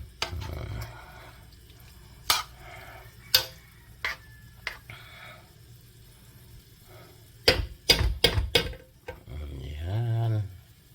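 A utensil stirring and scraping cooked rice being reheated in a pan on a home stove, sporadic sharp clicks and taps against the pan with quiet gaps, close by, with a little talk.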